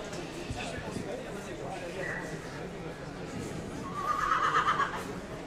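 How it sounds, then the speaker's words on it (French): Tall AQPS horse, a son of Danomaste standing 1.68 m, presented at a trot at an outdoor horse show, whinnying briefly near the end over a commentator's continuous talk and crowd noise. "va donc présenter au trot ce fils de Danomaste"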